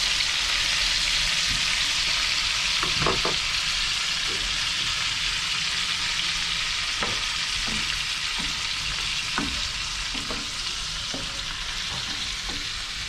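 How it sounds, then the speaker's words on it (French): Passion fruit and lime juice hitting cooked tasar fish in a hot frying pan with butter and olive oil, a loud constant sizzle with scattered pops and spatters. "Donc je verse maintenant le fruit de la passion et le citron dessus"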